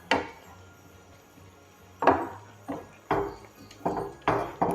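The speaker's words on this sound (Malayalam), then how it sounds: "നന്നായിട്ട് നമുക്കൊന്ന് ഇളക്കി കൊടുക്കാം" Chicken mappas curry with potatoes being stirred in a pot, with a quiet stretch followed by about six sharp scraping, clattering strokes of the spoon against the pot, close up.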